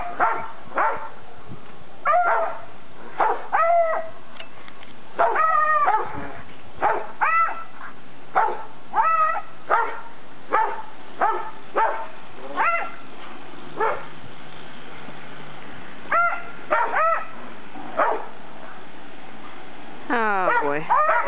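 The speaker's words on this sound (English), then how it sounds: "This is what my dogs like to do when it snows outside." Dogs barking and howling in the snow, repeated loud barks and rising howls in bursts, some overlapping, with short quiet gaps between calls.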